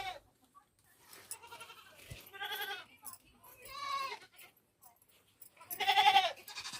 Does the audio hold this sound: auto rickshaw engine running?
no